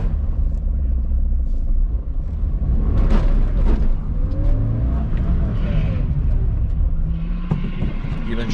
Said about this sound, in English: Do a little bit of burnout as usual.